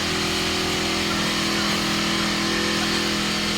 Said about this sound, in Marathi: तर बाहेरचा पेट्रोल पंपचा आवाज येत असेल व्हिडिओमध्ये